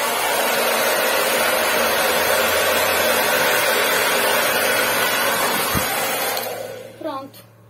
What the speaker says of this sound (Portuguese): Aqui que eu faço, eu só dou uma batida de secador